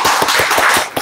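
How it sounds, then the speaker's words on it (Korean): A church congregation claps together during a Sunday worship service, a dense, steady burst of applause lasting about a second, loud and close, with no talk over it. "아까 예배 전에 우리 박수를 했지만 다시 한번"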